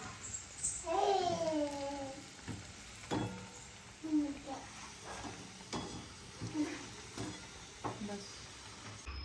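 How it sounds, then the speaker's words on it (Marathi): Sabudana vadas frying in hot oil, a steady close sizzle with stirring clatter, while a voice speaks intermittently over the cooking. "आता बाकीचे तळत आहे अजून इकडं भरपूर आहे"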